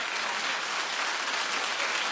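A studio audience at a television talk show claps steadily and densely throughout, a loud continuous wash of applause with no talking.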